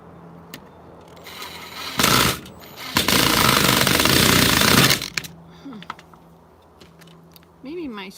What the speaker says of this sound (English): Maybe my screwdriver is not very sharp.